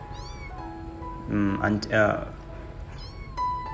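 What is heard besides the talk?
stray street kitten meowing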